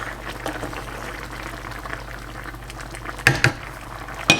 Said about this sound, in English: Okay, we're to a nice boil now, so I'm going to give it one last good stir.